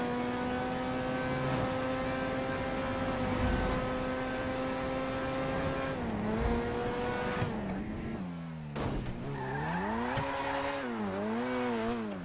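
A car engine in GTA 5 roars loudly as it drives, climbing in pitch through revs and gear changes, dipping briefly, then revving up again, with no voices over it.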